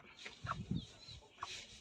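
Two young roosters clucking in a backyard coop, short soft clucks and a few brighter calls scattered across the moment, close by with no talk.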